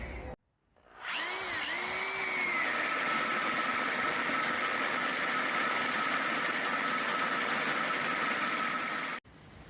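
A power tool cuts a steel tube for the rebuild of a 1963 Ford Falcon, running at a steady high-pitched whine close by for several seconds and then stopping abruptly.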